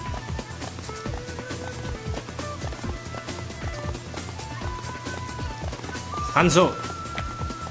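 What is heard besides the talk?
horse hooves in a video game, Samurai Warriors 2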